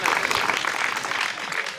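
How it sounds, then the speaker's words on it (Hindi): Audience applause at a comic poetry recital: a brief, dense burst of crowd clapping at steady loudness, with no voice over it. "तो जोरदार ताली बजाओ सर"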